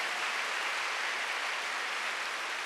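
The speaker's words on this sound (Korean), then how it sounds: "박수하세요" A church congregation at a Wednesday worship service claps together in a dense, even wash of applause that holds steady and fairly soft throughout, with no voices on top.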